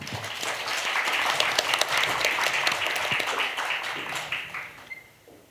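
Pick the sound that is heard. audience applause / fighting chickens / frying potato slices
audience applause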